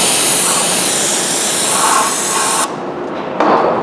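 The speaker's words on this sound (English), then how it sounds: "I hit it with a little bit of brake clean and the stuff runs right off." Brake cleaner hisses in a steady, loud, close spray onto a Jeep 4.7 cylinder head, stopping briefly near the end before a short final burst.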